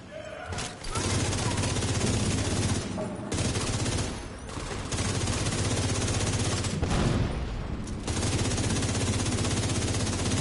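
A machine gun fires in The Division 2, loud sustained bursts of rapid gunfire separated by a few brief pauses, dense and close.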